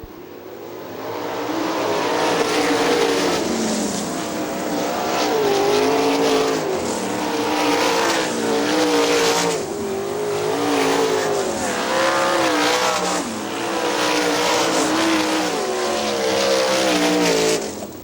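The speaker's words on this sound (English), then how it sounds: "Carl Fry Jr. closing the gap on your leader" Sprint cars race on a dirt oval at Hartford Speedway Park, a loud continuous engine roar with rising and falling pitch as cars pass, sustained for the whole stretch with no talk over it.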